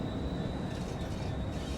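A DRS Class 66 diesel locomotive runs on the Edinburgh to Glasgow line in the video game Train Sim World 4, giving a steady, dense engine rumble with a thin high whine on top, unbroken and moderately loud.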